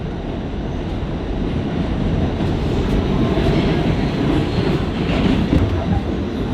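A subway train rumbles through a station, a loud, continuous roar of wheels and rail clatter swelling slightly in the middle, with faint squeals and no clear talk.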